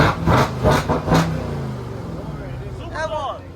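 A Jeep Grand Cherokee Trackhawk engine revs up under acceleration, a steady mid-pitched roar rising behind loud, excited voices talking over it, with a brief higher whine near the end.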